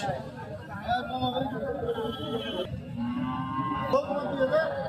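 A five- to six-month-old calf lowing at a busy cattle market, drawn-out moos rising over continuous crowd chatter and nearby talking.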